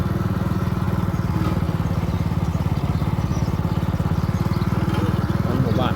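A motorbike riding around a rural village in Champhone, Savannakhet, its engine putting out a steady, rapid chugging throb that stays close and constant for the whole stretch.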